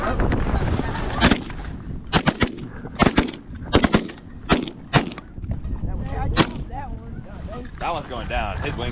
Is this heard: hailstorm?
no